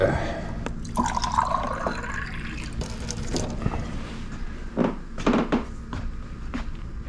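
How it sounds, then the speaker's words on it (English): Filtered tap water from a Brita pitcher pours and splashes into a container in a kitchen, with gentle trickling and dripping, brief clinks and a closer spill near the end. "I'm going to get some filtered water over here."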